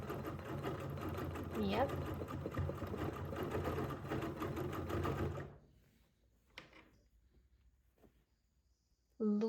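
A sewing machine fitted with a ruler foot couches fibers, whirring steadily and fairly loudly for about five seconds before stopping; a voice speaks briefly afterward amid quieter handling sounds.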